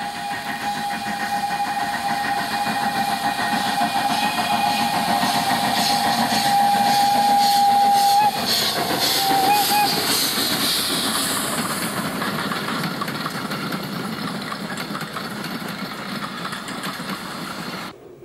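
Romanian steam locomotive working a 760mm narrow-gauge forestry line near the Carpathian foothills, a loud sustained rumble of engine and rolling stock with hissing steam, steady and close throughout without speech.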